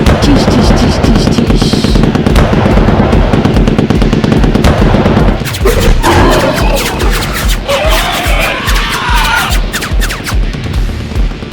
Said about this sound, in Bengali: তুমি আমার মেশিন গান দিয়ে গুলি চালাও